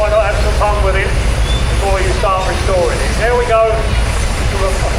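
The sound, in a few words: International tractor engine running in arena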